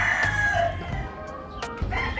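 A rooster on a chicken farm crows loudly and close by in a drawn-out call, with other fowl clucking and farm noise around it.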